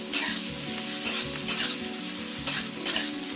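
Bengali chapor ghonto fries in a pan with a loud, steady sizzle, while a spoon scrapes and stirs in regular strokes roughly every half second.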